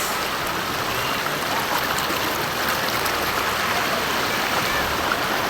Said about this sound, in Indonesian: Nah, ini kita lagi berada di sungai ya